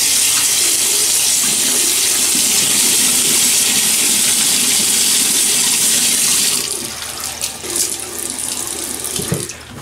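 Water runs steadily and loudly from a tap while a face is wetted before shaving, a constant splashing rush that softens and breaks up toward the end as hands move under the stream.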